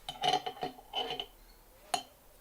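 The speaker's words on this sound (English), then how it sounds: "I don't like the way glass and metal sounds, so I'm taking out this metal" Metal utensil clinking against a glass bowl while mixing oils and herbs for an Ayurvedic hair recipe: several quick, close clinks in two clusters, followed by one sharp, louder clink after a short pause.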